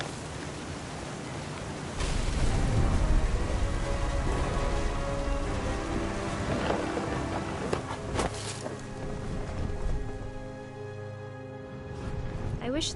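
Steady heavy rain hisses loudly and continuously in What Remains of Edith Finch, with a few low rumbles of thunder underneath and a voice talking over the storm.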